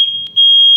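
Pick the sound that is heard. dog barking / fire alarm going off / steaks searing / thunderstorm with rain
fire alarm going off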